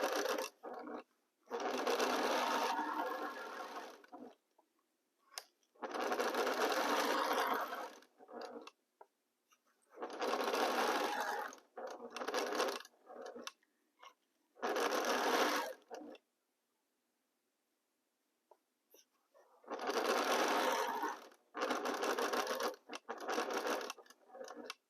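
A sewing machine stitches quilt pieces together with a 1/4 inch seam allowance. It runs in several close, loud bursts of fast, steady whirring, and each burst is split from the next by a short quiet pause.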